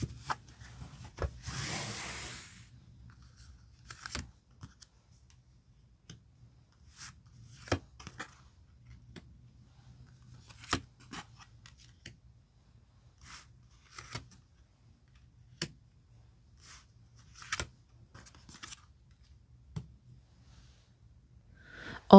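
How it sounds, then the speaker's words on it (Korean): Tarot cards are shuffled, slid and picked one by one in a quiet room: a brief burst of rustling shuffling, then sparse, soft clicks and taps of single cards being drawn and laid down. "카드 5 장을 선택해 볼게요."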